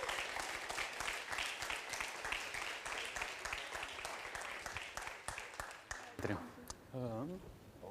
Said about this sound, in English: I think we can do a round of applause to all the organizers here who made that possible.